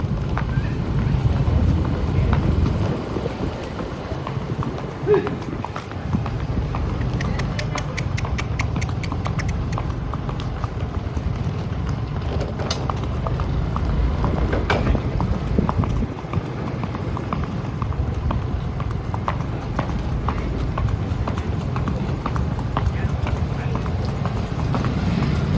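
A mare walking along a road outdoors in Gujarat, her hooves clip-clopping in a steady rhythm under constant wind noise and a low rumbling background, with no voices.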